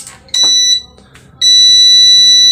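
A UPS unit switched on with its power button gives two loud electronic beeps, a short one followed by a longer sustained tone, with a little faint handling noise between them.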